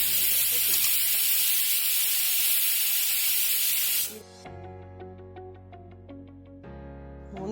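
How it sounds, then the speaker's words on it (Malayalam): A pressure cooker holding mixed vegetables for a masala curry vents steam in a loud continuous hiss for about four seconds, then cuts off abruptly, leaving quieter tonal kitchen sounds. "ഇനി കുക്കറിൻ്റെ മൂടി ഇട്ടിട്ട് 3 വിസിൽ വരുന്ന വരെ ഇത് വേവിച്ചെടുക്കാം."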